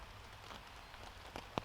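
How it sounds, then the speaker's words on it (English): Rain pattering on a tent during wild camping, a soft, steady hiss with a few louder individual drops landing near the end, quiet and close. "So this is going to have its first real test of rain on it."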